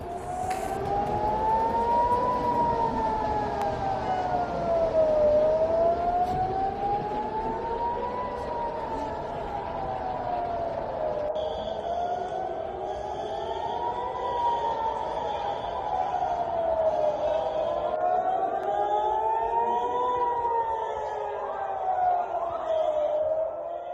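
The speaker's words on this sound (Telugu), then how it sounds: "ఇజ్రాయెల్ వ్యాప్తంగా సైరన్లు మోగుతూనే ఉన్నాయి." Air raid sirens wail across Israel during an Iranian missile attack, a loud, continuous rising-and-falling tone that overlaps in slow cycles, with faint crowd noise behind it.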